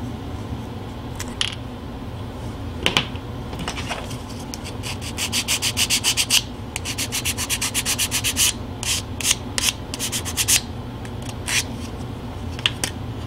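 Small wood parts for a model railroad structure kit are hand-sanded in quick bursts of rapid back-and-forth rasping strokes, close and moderately loud, with short pauses between runs.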